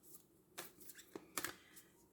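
Moonology oracle cards are shuffled by hand, giving quiet riffling and flicking bursts that come close together in an irregular rhythm.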